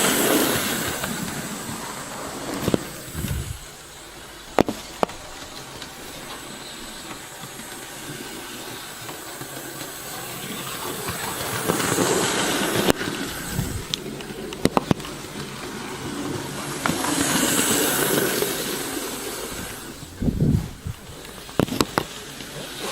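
Hornby BR J15 class model steam locomotive running along a model railway track, giving a steady, fairly quiet rolling hum and rattle with occasional brief clicks from rail joints throughout.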